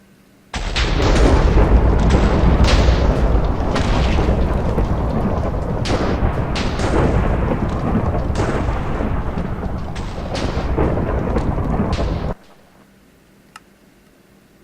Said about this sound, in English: I'll be back when the lightning finishes.